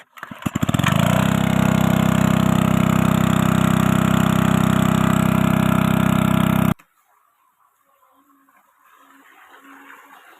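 A diesel farm engine cranks, catches and runs with a loud, steady chugging drone for several seconds, then cuts off, leaving faint background noise.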